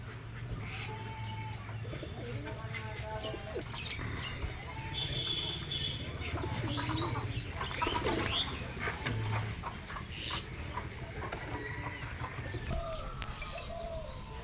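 Pet pigeons coo in a steady, continuous backdrop, their low murmuring calls close by, while a few faint chirps and a brief rustle of wings show through; someone talks over the birds.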